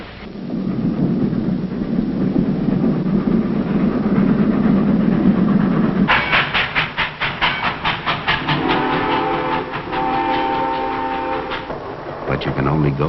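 A 1960s train passes after a low rumbling stretch, its wheels clacking in a rapid rhythmic run over the rails, followed by a steady sustained horn-like tone, loud and close with no talk.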